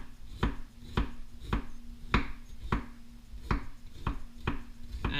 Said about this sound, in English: So now I'll chop up my ginger.